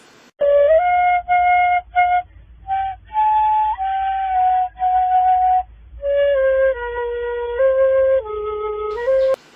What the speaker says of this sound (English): The seruling is a type of musical instrument that emits sound from the flow of air